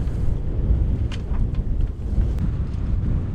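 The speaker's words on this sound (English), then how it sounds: "Just to give you an idea what the wind situation is out there." Strong wind blowing across a sailboat at sea in the Mediterranean, a loud steady roar buffeting the microphone with a few faint rattles, continuous throughout.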